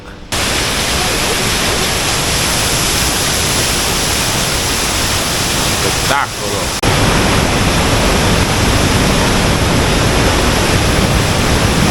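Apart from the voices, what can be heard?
river rushing through a gorge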